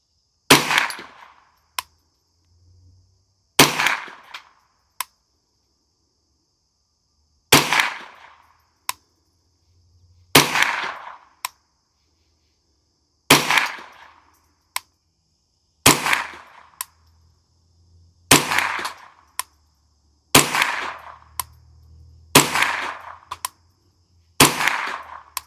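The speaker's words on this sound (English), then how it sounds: "out at the range this morning with that CVLIFE bipod. Gonna do a little bit of shooting here." Rifle shots fired off a carbon fiber bipod at an outdoor shooting range, about a dozen sharp loud cracks spaced a couple of seconds apart, each followed by a brief echo tail, with no voices.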